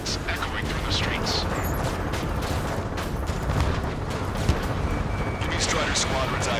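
Dense, echoing bursts of gunfire and booming blasts rumble continuously beneath a low jet roar echoing through streets in Ace Combat 7: Skies Unknown, with sharp cracks scattered throughout.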